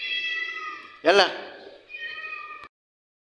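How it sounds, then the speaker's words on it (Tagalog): A stray cat meows in a house, a few drawn-out harmonic cries with a louder, sharper yowl in the middle, close by and fairly loud, with little else around it. "Guys, may pusang gala dito."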